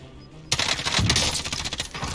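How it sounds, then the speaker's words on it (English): An M13 rifle fires in a video game, a quick rattling string of shots that starts abruptly after a brief quiet moment and continues through to the end. "What is that gun? It's an M13."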